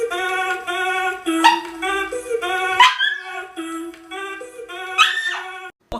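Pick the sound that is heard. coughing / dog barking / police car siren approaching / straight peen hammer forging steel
dog barking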